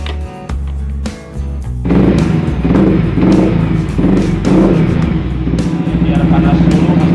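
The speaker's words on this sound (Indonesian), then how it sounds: "Kita hidupkan dulu motornya." A Yamaha R15 motorcycle engine fires up close by and settles into a loud, steady idle, with a brief mechanical clatter before the start.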